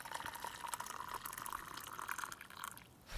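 Just-boiled water, rested a couple of minutes, streams steadily into oolong tea leaves outdoors in a backyard, a close, continuous trickling pour that tapers off near the end.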